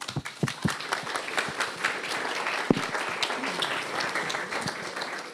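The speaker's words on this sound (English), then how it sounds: "round of applause." Audience applause at a live web3 privacy event at c-base, a few distinct near claps at the start building into steady crowd clapping that carries on evenly.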